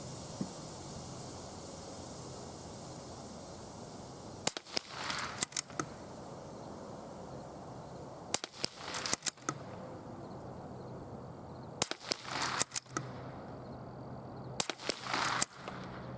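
Rifle shots fired at a target through Red Line optics, several separate bursts of sharp reports spaced a few seconds apart over a steady outdoor hiss, fairly distant, with no talking.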